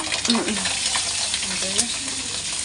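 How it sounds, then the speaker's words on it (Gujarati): Flour-stuffed green chillies with fenugreek are tempered in hot oil in a village kitchen, giving a continuous crackling sizzle with stirring, while a voice speaks faintly in the background. "મરચાં મેથી એવું બધું નાખીને વઘારવાનું ચાલુ છે"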